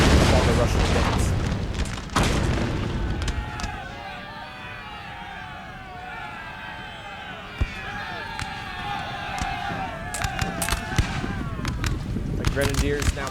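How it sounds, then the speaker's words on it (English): A Prussian rocket barrage in Napoleon Total War: heavy booming blasts open, then a volley of rising and falling whistling streaks with scattered cracks. It is loud and dense throughout, with a voice talking underneath. "the Prussian rockets delivering a"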